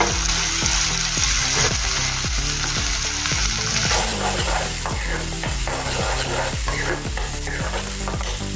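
Onions and green chilies fry in a pan for a cabbage dish, giving a loud, continuous close-up sizzle with occasional stirring, while a low pulsing tone runs steadily underneath.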